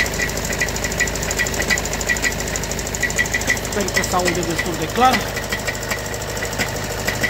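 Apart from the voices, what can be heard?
dual-mass flywheel knocking, Skoda Octavia 3 6-speed DSG gearbox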